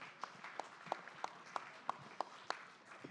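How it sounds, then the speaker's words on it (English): Sparse, slow claps ring out one at a time in an evenly spaced rhythm, fairly faint, from the audience at the 26th Micronesian Islands Forum on Guam. "Everybody, a round of applause, please."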